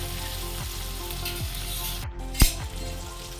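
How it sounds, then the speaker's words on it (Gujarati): Green chili, onion and tomato sauté in hot oil in a pan, giving a steady close sizzle with scattered scraping stir strokes and one sharp clatter of a utensil partway through. "હવે તેને સારી રીતે સાતરી લઈએ. ટમેટા આપણા સોફ્ટ થાય ત્યાં સુધી."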